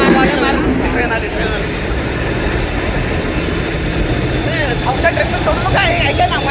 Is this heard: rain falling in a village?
no